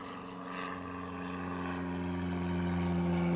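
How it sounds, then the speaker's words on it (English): A propeller airplane passes overhead outdoors, a steady droning engine hum with strong low tones that grows slightly louder throughout and is heard alone with no talking. "Let's wait for that plane."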